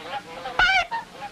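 Cartoon geese honking: one loud, nasal honk stands out among softer, fainter calls on either side, with no talking.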